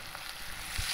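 Onions sizzle in a hot pan on medium heat, a soft, continuous frying hiss that is fairly quiet and steady, with no talking.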